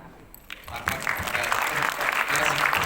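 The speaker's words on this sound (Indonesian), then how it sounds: "tepuk tangan ya" Applause from an audience of nearly 400 school student council members at a Jakarta election talk show swells up after a brief quiet start and holds steady, with faint voices underneath.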